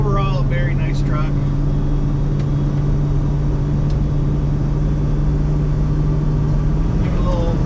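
A 1976 Ford F250 Highboy pickup drives on, its engine a steady, loud, low drone with a constant hum, while someone talks briefly at the start.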